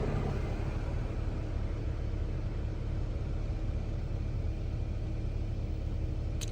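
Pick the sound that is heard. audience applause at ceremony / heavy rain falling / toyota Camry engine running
toyota Camry engine running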